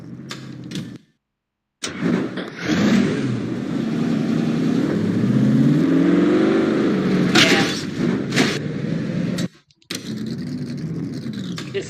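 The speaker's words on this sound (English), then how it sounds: "So we're gonna try to do burnout without a steering wheel again." A race car engine in the NR2003 racing game revs hard during a burnout attempt, roaring and rising in pitch with brief cutouts and restarts, loud and close.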